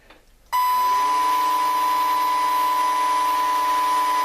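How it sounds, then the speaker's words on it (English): A small electric RC plane motor spins a propeller on a homemade thrust tester. It starts abruptly, rises briefly in pitch, then holds a steady, loud, high whine. "Still have to be careful obviously with props moving, but let's give it a go."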